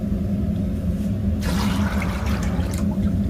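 Water is poured into a pot of soaked soybeans being set up for boiling, a steady splashing gush that begins partway through over a constant low background hum, fairly close and loud.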